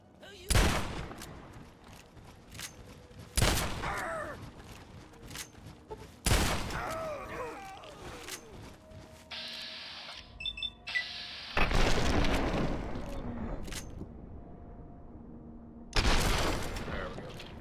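Shotgun gunfire in the post-apocalyptic game Fallout 3, a series of loud heavy blasts spaced several seconds apart, with game noises and brief sounds between shots.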